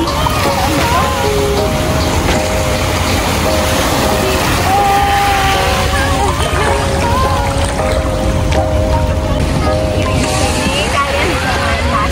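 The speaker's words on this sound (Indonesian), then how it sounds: "ada ombak lagi" Sea waves wash against the shore of Pulau Merak Kecil, a small island off the coast, with a steady broadband roar that fills the whole clip under constant background chatter and faint tonal sounds.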